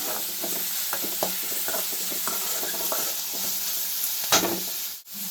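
Finely chopped onions fry steadily in a pan, a continuous close sizzle with repeated soft scraping strokes of stirring, ending in a sharper clatter.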